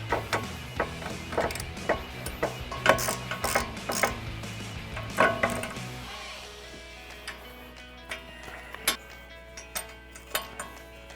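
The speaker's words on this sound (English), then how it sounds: "So I'm going to get my extension and a deep socket, give that a try." A hand ratchet with an extension and deep socket works on an upper forward bolt of a 2015-2025 Mustang during rear wheel bearing work, giving steady rapid clicking strokes, close and clear, then slower, sparser clicks after a short pause.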